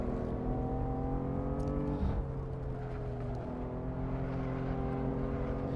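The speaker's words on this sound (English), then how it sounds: "you can hear that little rumbling under the throttle that signifies the traction control" A BMW M4 in the Assetto Corsa racing game drones steadily under throttle with a low rumbling traction-control stutter, its engine tone rising and briefly dipping around a shift, loud and continuous with no voices.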